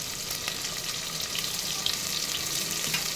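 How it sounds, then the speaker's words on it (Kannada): Ginger garlic paste with onion and green chilli frying in a pan, a steady close sizzle with faint stirring scrapes throughout, no voices. "ಎಲ್ಲನೂ ಹಾಕೊಂಡು ಚೆನ್ನಾಗಿ ಫ್ರೈ ಮಾಡ್ಕೋಬೇಕು"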